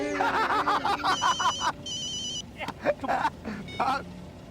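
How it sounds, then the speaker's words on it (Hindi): A telephone rings in a domestic scene, a repeated electronic ring in short bursts, with people talking and laughing around it before the call is answered. "बाका फोन आ गया"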